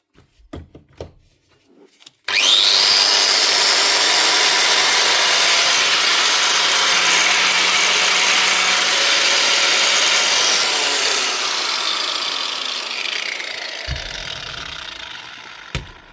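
A 2019 Hikoki G12STX angle grinder with a newly fitted bearing flange spins up and runs loud and steady for over ten seconds, a high whine with broadband hiss that slowly eases, after a few handling clicks.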